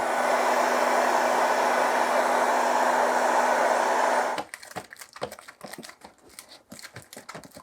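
A heat gun blows hot air steadily onto a pouch to soften away a leather-like surface texture, a loud close rushing hiss that cuts off after about four seconds, leaving light taps and scratchy handling noises.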